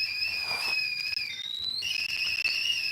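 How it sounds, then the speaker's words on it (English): A shrill kettle whistle sounds continuously, two steady high tones wavering slightly in pitch, with a faint rumble of boiling underneath. "Whistling kettle, boiling, cold water boiled hot."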